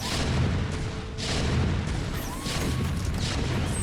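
Siege tank artillery in StarCraft Remastered during a late-game Terran battle, heavy booming blasts rolling one after another, loud and dense with overlapping explosions and crackle throughout.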